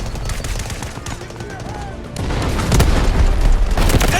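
Gunfire in the mobile shooter Delta Force Mobile, likely an M870 shotgun, with repeated loud shots and booms that grow denser and louder in the second half over a busy battle background.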